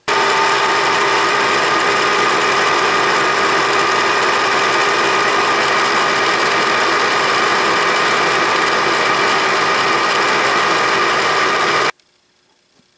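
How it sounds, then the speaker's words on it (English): A Bridgeport milling machine cuts a chamfer at 1750 RPM, giving a steady, loud, close whine and grinding hum that holds unchanged for about twelve seconds before stopping abruptly. "I'm going to crank the spindle speed up and take one final pass"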